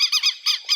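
Southern lapwing (tetéu) giving a rapid series of four shrill, harsh squawking notes, loud and close, with no other sounds.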